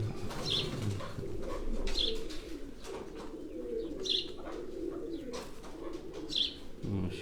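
Pigeons coo in low, rolling bursts, close and fairly steady, with a few brighter chirps and light rustling; the bird is a Kali Kat pigeon with a black crest.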